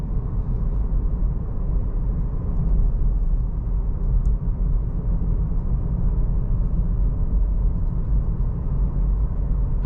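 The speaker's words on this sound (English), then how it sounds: "that 4-cylinder sounds really good too" A steady low four-cylinder engine drone heard from inside a 2023 Cadillac CT4 Sport, constant and rumbling throughout with little change in pitch.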